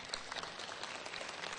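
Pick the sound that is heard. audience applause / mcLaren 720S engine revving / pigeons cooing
audience applause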